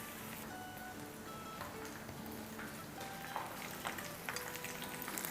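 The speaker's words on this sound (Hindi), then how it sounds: "और इस चिकन को हम फ्राई करेंगे ऑलमोस्ट 6 मिनट के" Chicken kababs frying in a pan make a soft, steady sizzle close by, with a few clicks and light taps of a utensil against the pan and no voices.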